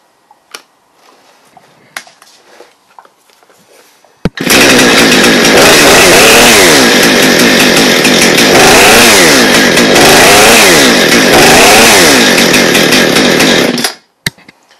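A Husqvarna chainsaw with a blade brake that will not engage starts after quiet handling noises, then roars loudly and steadily for about ten seconds with revving surges before cutting off abruptly.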